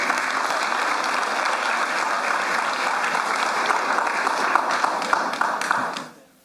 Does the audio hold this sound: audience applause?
yes